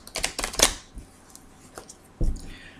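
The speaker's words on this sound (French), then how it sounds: "tant que je mélange le jeu" Tarot cards shuffled by hand in a quiet room: a quick run of papery riffles and flicks near the start, then scattered soft taps and one more burst of shuffling later, close and fairly faint.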